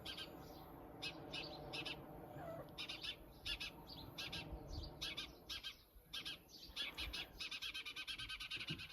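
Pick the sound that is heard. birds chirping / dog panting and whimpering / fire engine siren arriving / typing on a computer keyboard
birds chirping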